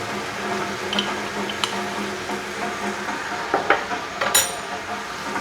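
Ampalaya (bitter gourd) and pork being stirred in a pan, a steady low sizzle with occasional metallic clinks and scrapes of a utensil against the pan.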